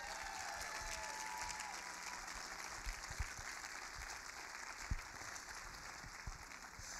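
Steady applause from a crowd welcoming a speaker to the stage at an afternoon Hanukkah gathering, sustained and fairly distant, with a few sharper claps standing out, and no talk over it.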